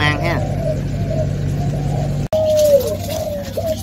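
Pigeons cooing in a loft, including a hen, with soft repeated low coos over a steady background hum and faint voices.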